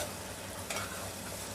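Onions and curry leaves sauté in hot oil in a pan, giving a steady close sizzle with a brief scrape of stirring partway through, and no voices.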